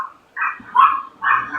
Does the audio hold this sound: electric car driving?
no